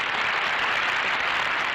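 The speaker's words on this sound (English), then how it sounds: "Cue the applause sound" Applause sound effect on a podcast, a smooth steady burst of crowd clapping at moderate level that runs unbroken with no speech.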